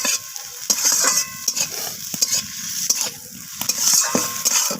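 Beaten egg being fried and stirred in a kadai, with a constant close sizzle and repeated rhythmic spatula scrapes and taps against the pan.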